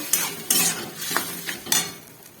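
A spoon scrapes and clinks against a pan as tarka is stir-fried, producing several sharp, close metallic strokes over a faint sizzle.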